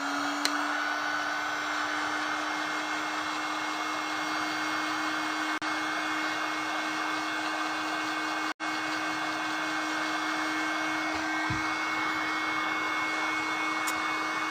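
A hair dryer blows steadily on a watercolor painting for a handmade card. Its loud, continuous whir runs unbroken for the whole stretch, with no talking.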